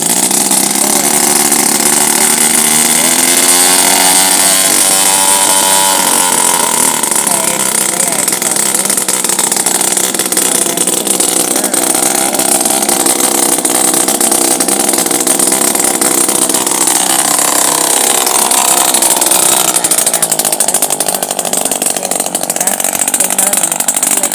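An engine-powered pesticide sprayer starts up and runs in a tomato field, its small motor droning steadily and close for the whole stretch, with a pitch shift early on as it catches and talk heard over it.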